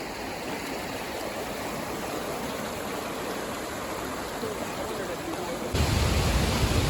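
Steady, dense rushing of Swallow Falls, a big waterfall in Wales, loud and continuous, swelling slightly heavier near the end.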